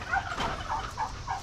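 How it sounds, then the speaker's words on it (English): Several wild turkeys gobble in quick, rolling bursts at moderate distance, overlapping one another with a busy outdoor background. "There's the wild turkeys."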